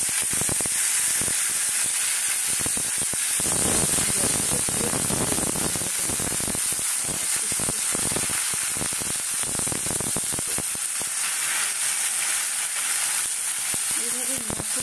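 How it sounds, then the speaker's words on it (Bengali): Mushrooms fry in mustard oil in a wok, giving a steady, loud hiss and crackling sizzle that persists throughout with no voices. "এবারে একটু মাশরুমটাকে একটু ভেজে নেব আমি"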